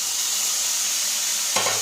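Onions and tomato sauté in a pan with salt, giving a continuous close hiss. The sizzle swells with a brief stirring clatter near the end.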